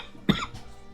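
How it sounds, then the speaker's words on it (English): A single short cough breaks with a sudden voice crack in the middle, close and brief, followed by quiet. "I had like a voice crack and a cough all in one."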